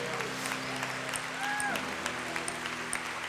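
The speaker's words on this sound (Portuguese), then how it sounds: "Vamos aplaudir ao Senhor." Church congregation applauding at a service, a steady dense wash of clapping under sustained tones and a faint voice, moderately loud throughout.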